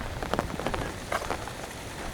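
Steady rain patters on surfaces along a riverside garden path at St James Gardens by the Humber River in Toronto, a soft continuous wash with a few brighter drip spatters, no voices.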